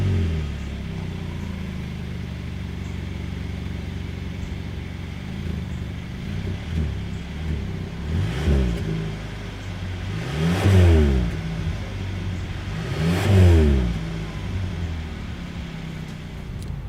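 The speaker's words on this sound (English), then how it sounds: "As always, here is that exhaust clip." A 2022 Hyundai Sonata sedan's exhaust idles low from behind the car, then rises through three quick revs that swell and fall back, heard alone at moderate distance.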